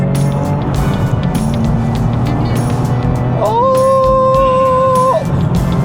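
A Nissan 370Z sports car accelerating hard, a steady loud engine roar that climbs in pitch with a rising whine near the end, heard from inside with road noise under it.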